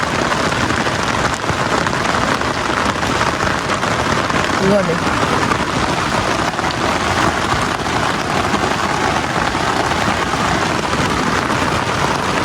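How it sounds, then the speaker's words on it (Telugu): Heavy rain pours down hard and constant, a dense roaring hiss that never lets up, with a brief voice barely heard beneath it. "ఒక్కటి దెబ్బ దిగింది వర్షం అయితే"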